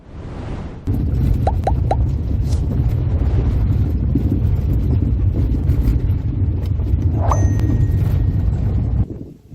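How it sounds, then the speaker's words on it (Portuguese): Strong wind over a Mata Atlântica lookout in Tapiraí, São Paulo, roars as a steady, loud low rumble for most of the stretch, with a few faint tones above it and no speech. "olha aí o vento que a gente vai enfrentar. O vento tá forte, hein?"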